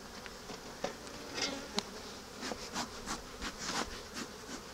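Honeybees buzz around an opened hive during an inspection, bringing in yellow and orange pollen; a steady low hum of many bees, with louder individual bees zipping close past at irregular moments.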